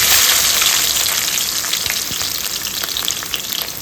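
A handful of peeled garlic cloves dropped into hot oil with crackled cumin seeds for a green turkey berry curry, giving a dense, loud, steady sizzle with scattered pops and no voices.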